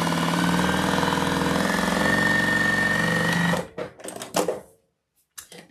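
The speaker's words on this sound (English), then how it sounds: "you're just going to sew this one on" A sewing machine stitches a fabric piece onto a Queen of Hearts Valentine's wreath, running in a loud, steady rapid whir for about three and a half seconds before stopping, followed by a few short handling noises.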